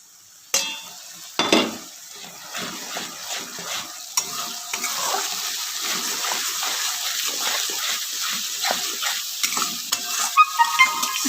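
Egg curry masala sautéing in a pan with turmeric, salt and coriander powder added, a steady sizzle under repeated scraping stirs, with a couple of sharper clatters early on.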